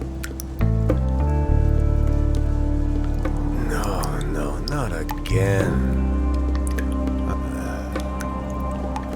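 Water dripping and splashing from a leak in The Flower Collectors, wet squishy drops heard close and fairly loud, with a voice speaking briefly over them and a steady low game hum behind.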